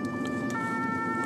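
An ambulance siren holds a steady, loud wailing tone nearby, with road traffic rumbling underneath.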